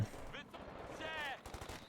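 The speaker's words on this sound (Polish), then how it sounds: "Piękny strzał z brytyjskiego moździerza" A British mortar fires in Company of Heroes 2, a World War II strategy game, giving a sharp burst followed by a ringing, whistling tail over constant battle noise, with a couple of further impacts after.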